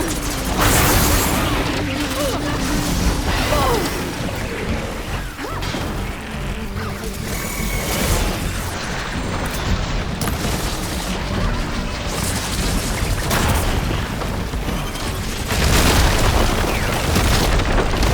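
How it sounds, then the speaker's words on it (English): Glowing crystals explode in the video game Horizon Forbidden West among heavy booms and crashes within a dense, loud battle mix, with voices talking throughout. "See those glowing crystals? Takes one hit to detonate."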